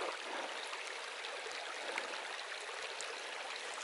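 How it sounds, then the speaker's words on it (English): A small creek flowing over rocks at a trail crossing on the Golden Gate Trail at Paradise, Mount Rainier, a soft continuous hiss of running water, faint and steady with light gurgles. "the Golden Gate Trail has a little creek crossing"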